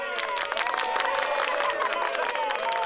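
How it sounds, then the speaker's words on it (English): A large audience at a children's magic show breaks into dense, steady applause and cheering that carries on without pause for the whole stretch, with no speech over it. "Let's give him a big round of applause."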